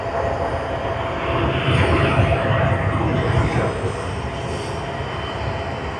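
An airliner lands at Sydney Airport, a loud, broad jet engine roar that swells in the middle as it passes close and then eases off slightly, with no talk over it.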